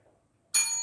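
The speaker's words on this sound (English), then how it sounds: "hit that notification bell so that you don't forget" A bright bell-like ding strikes suddenly and rings on with a shimmering sustained tone, used as a notification chime in a home kitchen cooking segment.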